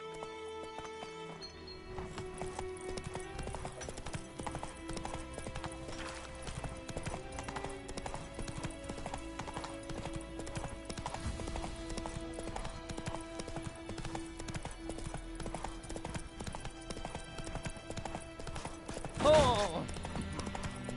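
Roach, Geralt's horse in The Witcher 3, clip-clops steadily at close range for the full stretch, with game music and talking layered on top and a brief louder burst near the end.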